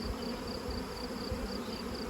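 Honey bees hum at an open hive while frames of brood are pulled, a steady dense buzzing swarm sound, fairly faint and continuous.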